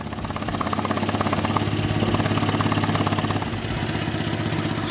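An adventure vehicle's engine idles steadily through a new steel exhaust, a loud close-up throbbing pulse with a dense rattling rhythm that holds even throughout, dipping slightly near the end.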